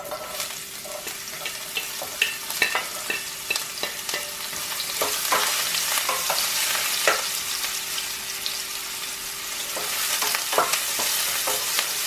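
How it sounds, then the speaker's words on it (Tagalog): Garlic and onion sautéing in hot oil in a pan, a steady close sizzle with a spatula stirring and scraping in irregular knocks throughout, no talking. "So, gisa lang ang ating bawang."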